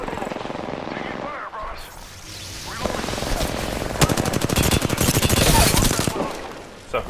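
Enemy gunfire in the video game Apex Legends, bursts of rapid automatic shots that grow denser and louder toward the middle, crackling close over a busy game soundscape with a helicopter-like drone underneath.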